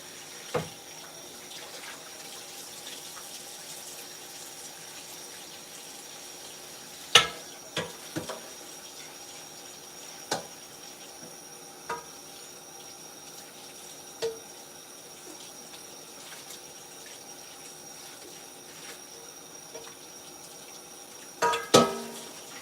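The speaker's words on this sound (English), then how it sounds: "I'm going to go ahead and wash the pan out though." A pan washed under a running kitchen tap, with a steady low water hiss broken by scattered clanks and knocks of the pan against the sink.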